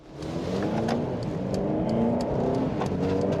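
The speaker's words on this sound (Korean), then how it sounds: "지금 컴포트 모드로 시승을 가고 있는데 엄청 묵직하게 가속이 되는데요?" Mercedes CLA 250 sedan accelerating in comfort mode, a smooth mid-pitched engine note rising steadily as it gains speed, heard from close by with no talking.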